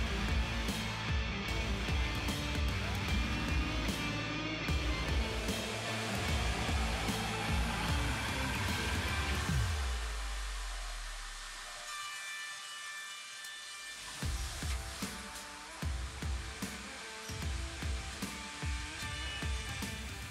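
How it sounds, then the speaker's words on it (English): A hot air edge banding machine applies edge band to a laminate desk top in a factory, giving a steady loud blowing whine with mechanical clatter that winds down midway, then resumes with intermittent knocks and hum. "we use our Forever Edge and apply it with our hot air edge banding machine."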